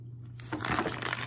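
Caramel-coated popcorn snack bitten into, producing a short, close crunchy burst after a brief quiet moment.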